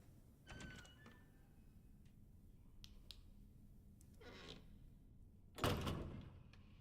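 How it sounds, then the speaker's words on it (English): A door handled loudly in the survival horror game Resident Evil 2, with a sharp bang near the start, quieter clicks and creaks in the middle, and a heavy, loud slam or thud near the end over a low ambient hum. "Why you gotta handle that door so loud?"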